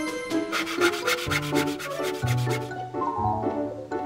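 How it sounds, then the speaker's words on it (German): Cartoon saw cutting boards to length in a children's animated show: repeated rhythmic rasping strokes over a light musical background, close and fairly loud throughout. "eine Säge"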